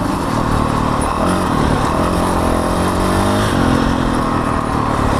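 A Honda CRF 450L motorcycle fitted with an FMF Q4 exhaust rides through woods, its engine a loud, close, continuous buzz that rises and falls slightly in pitch with throttle changes.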